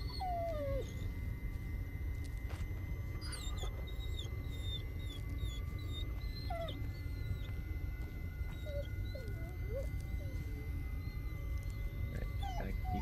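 Injured dog whimpering in the Blair Witch video game, a series of thin, high whines and yelps scattered through the clip over a steady low ambient rumble, fairly faint and with no talking.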